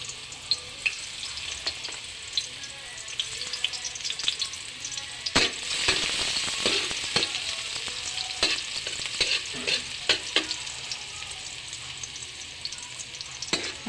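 Garlic with a little onion sizzles steadily in a pan for a bitter gourd, tomato and egg dish, a continuous close frying hiss broken by frequent sharp scrapes and taps of a spatula.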